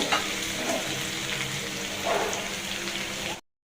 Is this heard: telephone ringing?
no